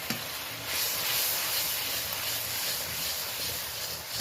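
Ground spice masala of turmeric, chilli, cumin and coriander powder with a splash of hot water, stirred in a pan for a spicy topse fish curry, giving a steady close sizzle and hiss with soft scraping throughout.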